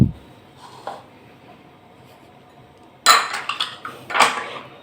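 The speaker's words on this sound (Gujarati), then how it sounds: "હવે એક બાઉલમાં આ 3 વસ્તુ નાખી દેવાની છે." Ingredients dropped into a mixing bowl for Indian ghabha roti, a soft clink early on, then a quiet pause before a cluster of close clattering and scraping sounds of a utensil against the bowl.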